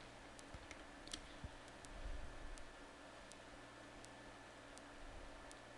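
A computer mouse gives several faint, sharp clicks, spaced out over a quiet hiss, as Internet Explorer is opened.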